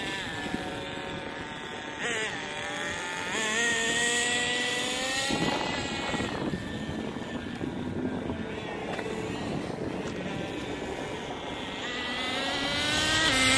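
A Tornado S30 RC car races across flat ground, its electric motor whining and rising in pitch as it speeds up, steady and fairly loud throughout.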